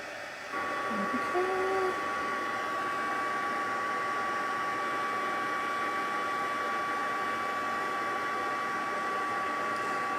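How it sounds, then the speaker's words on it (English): A craft embossing heat tool blows hot air on embossing powder over paper in a steady, even whoosh that starts after a brief click and keeps going for the full length at a constant level, with a faint high whine running through it. "Here, let's grab our heat tool."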